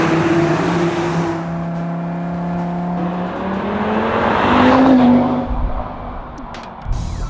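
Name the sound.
Audi RS Q3 Sportback engine running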